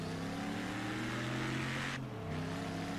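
A car engine revving in Forza Horizon 3 holds a loud, steady drone, dips briefly as if shifting gear, then carries on at a lower pitch, with no voices.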